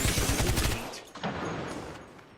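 Smart bullets landing amid gunfire in a video game: a dense burst of rapid, loud shots for under a second, then a softer rumbling tail and a second faint impact, no talk.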